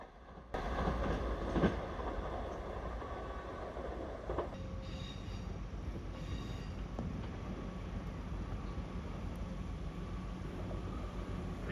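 A train passes steadily and fairly close on the single-track Huddersfield Line near Mirfield, a continuous heavy rolling roar with faint squeals, no voices.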